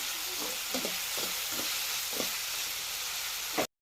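Brinjal curry sizzles steadily in a hot pan, with a constant frying hiss and several soft scraping strokes as it is stirred, before a sudden cut to silence.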